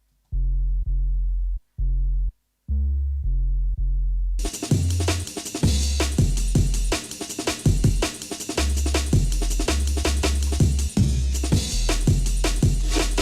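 Saturated 808 bass sample played at different pitches in a sampler, first as a sequence of deep sustained booming notes with short gaps, then joined by a busy jungle breakbeat over the bass, loud throughout.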